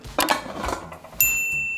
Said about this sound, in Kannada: ಕುಕ್ಕರ್ನ ಮುಚ್ಚೋಣ